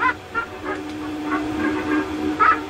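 Repeated honking bursts from a cartoon bird in an animated clip, several loud honks spaced irregularly over a noisy soundtrack, with the last honk the strongest.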